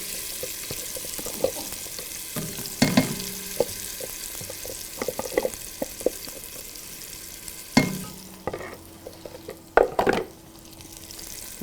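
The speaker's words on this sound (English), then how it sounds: "Nice little sizzle, so that means our burner is ready." Paste seasoned with cayenne pepper sizzles in hot olive oil in a pot, a steady soft frying hiss broken by sharp scraping clatters of stirring, louder bursts near the end.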